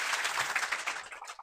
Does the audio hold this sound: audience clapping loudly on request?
yes